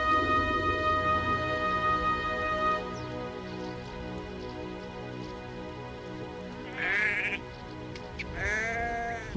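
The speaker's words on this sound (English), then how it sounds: "They're sheep." Sheep bleating on open hillside pasture, several calls rising out of a steady outdoor background, the clearest cries coming near the end, moderately close.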